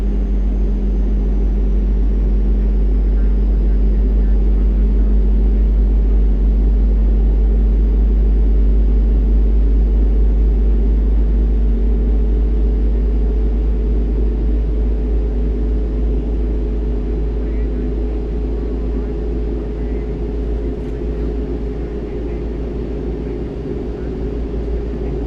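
Engines of an iniBuilds Airbus A330-200 in a flight simulator produce a constant, heavy low drone with a steady tonal whine above it, holding loud and even throughout with no talk.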